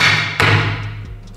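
A 3D printed part knocked down onto a tabletop gives one sharp, loud thud, with a fainter second knock about a second later over a low background hum.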